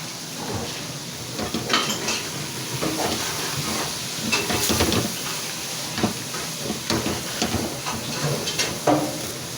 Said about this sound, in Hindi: अब इन वेजिटेबल्स को हमने तेज़ आग पे जो है ना इनकी फ्राई करनी है।